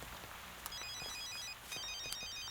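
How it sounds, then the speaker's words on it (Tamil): A mobile phone ringtone plays as a steady electronic melody of short repeated high notes, fairly quiet and continuous, with no talking over it. "டேய் ஃபோன் அடிக்க பாரு."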